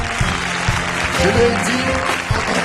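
A church congregation claps and cheers for a visiting pastor, a broad steady wash of applause filling the room with a few sharper claps rising from it, while faint voices mix in underneath.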